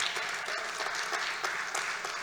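Conference audience at the EuCNC 2019 closing gives brief, steady applause, a dense wash of clapping filling the room.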